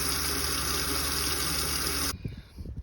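Old water purged from camper water lines rushes out as a loud, steady broadband gush that suddenly cuts off, leaving quieter irregular drips and sputters.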